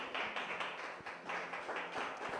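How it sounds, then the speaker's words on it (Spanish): A church congregation claps together for the Lord in a steady, moderately loud burst of applause with slightly rhythmic swells, no voices rising above it. "Un aplauso al Señor."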